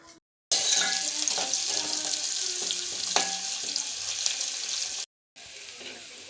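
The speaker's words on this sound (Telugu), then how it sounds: "తాలింపు వేగింది కదా" Spices in hot oil sizzle loudly and steadily, close by, with occasional sharp pops; the sizzle cuts out briefly near the start and again near the end.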